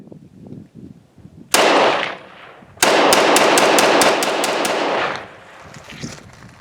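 A Norinco T97 Gen III rifle fires outdoors: one loud single shot, then after a short pause a rapid string of about eight sharp shots with lingering echo, followed by quieter handling noise.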